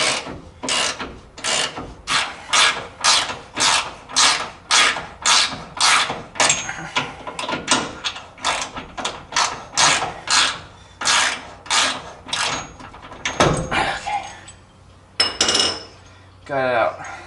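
Breaker bar turning a deep socket on a rear leaf spring bolt of a 1972 Chevrolet C10 pickup, with a steady series of close, rhythmic metallic scraping ratchet strokes, then a few looser clanks as the bolt comes free.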